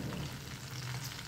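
Homemade kebab frying steadily in hot oil, a continuous close, loud crackling sizzle with no gaps and no voices.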